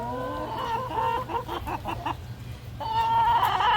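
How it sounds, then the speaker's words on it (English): Several chickens cluck and cackle close by, a busy run of short repeated clucks with a longer drawn-out squawk at the start and end. "We're gonna use sound to make the same sounds that chickens make."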